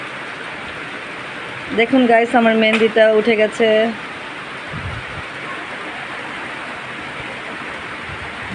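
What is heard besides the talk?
rain falling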